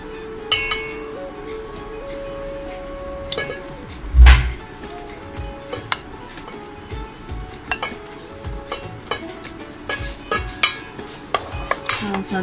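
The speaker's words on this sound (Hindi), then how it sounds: "अब हम इसमें ये सेवइयां ऐड कर देंगे।" Vermicelli is tipped into a pot of Lab-e-Shirin dessert mixture and stirred, with scattered metallic clinks and scraping, one louder knock near the middle, then steady light stirring clatter.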